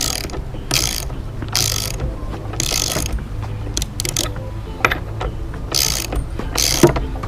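A ratchet wrench tightens lock nuts onto half-inch bolts while a wooden saw buck is assembled. Quick clicking bursts repeat in a steady rhythm, close and clear, with short pauses between strokes.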